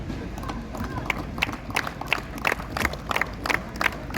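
Crowd at a district-level football tournament closing ceremony applauding an arriving match commissioner, a rising patter of clapping with scattered cheers, moderately loud and building toward the end.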